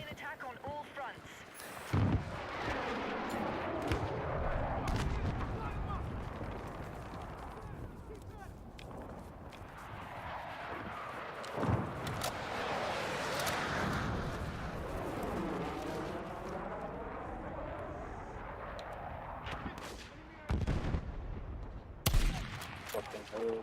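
Bursts of gunfire crackle through a Battlefield 6 video game battle, with repeated automatic volleys and sharp single shots, some near and loud, others distant, over a continuous rumble of combat and occasional talk.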